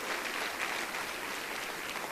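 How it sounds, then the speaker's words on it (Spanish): A church congregation claps during a Spanish-language service, producing a dense, even wash of applause at moderate volume that carries steadily from start to finish with no speech over it. "Dele un aplauso al Señor si usted lo cree."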